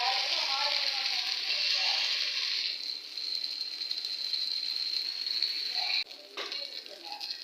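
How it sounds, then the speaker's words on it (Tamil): Kuzhi paniyaram batter poured into a hot paniyaram pan gives a steady, bright sizzling hiss. It holds for several seconds, then eases and flares again after a brief clatter. "இப்போ ஒரு குழி பணியார கல்லை வச்சாச்சு. வச்சுட்டு அதில் மாவு எடுத்து ஊற்றிக்கலாம்."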